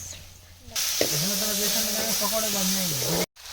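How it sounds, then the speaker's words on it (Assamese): Onion and meat frying on a home stove give a loud, steady sizzle that bursts in under a second in and runs about two and a half seconds before cutting off abruptly, with a sustained tonal voice-like hum riding over it. "আমাৰ মাংস মুঠি হৈ গৈছে আৰু এয়া আমাৰ জুইত পিঁয়াজ উঠাই দিছে"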